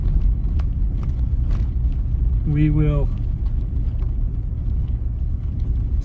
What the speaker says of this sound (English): I'm gonna turn the truck off so you guys can hear better.